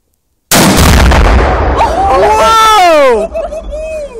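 Four pounds of Tannerite detonate against a mini fridge in one sudden, extremely loud blast that rolls into a long rumbling roar, followed by excited shouting voices.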